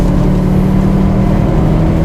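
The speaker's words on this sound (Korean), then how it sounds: "엔진이 더 커지네" Hyundai Kona N Line engine running in sport mode, a loud, close, steady droning hum held at raised revs with no pauses.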